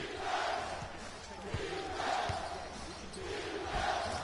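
Crowd noise in the NBA Live 19 basketball video game, a low, swelling roar of booing from the arena that rises and falls in waves, fairly faint and continuous.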